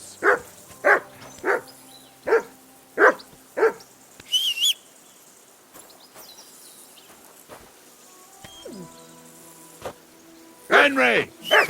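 A dog in Kingdom Come: Deliverance II gives a quick run of six loud barks close by, then goes quiet under faint ambient insect and bird sounds before a few final yelping barks.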